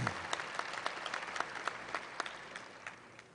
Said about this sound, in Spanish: le damos un fuerte aplauso de bienvenida a Durango